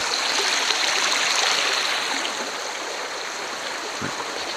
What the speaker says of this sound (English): Alright, we're on that creek,